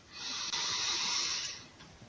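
During a back-stretching exercise, one long, steady breath is drawn in with an airy, hissing rush. It sounds close and fairly loud, lasts about a second and a half, then fades.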